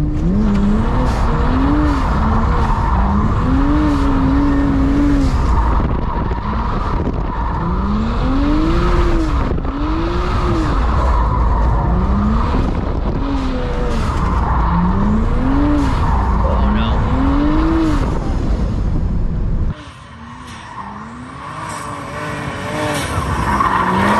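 A drift car slides through repeated passes with a loud, sustained engine roar, its rising and falling revs paired with squealing tires. The run cuts off abruptly near the end, then the engine returns more faintly.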